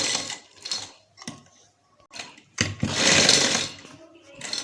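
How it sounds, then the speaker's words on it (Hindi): A sewing machine stitches a cutwork design onto trousers in short, close whirring runs, stopping and starting several times, with one longer sustained burst near the middle. "इसी तरीके से जो सारे हैं हम ये सिलाई लगा के इनको कवर करेंगे।"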